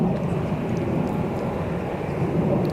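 A Helvetic airliner moves at Zurich Kloten Airport while a jet engine winds up in the distance, a steady, broad roar that holds at an even level throughout.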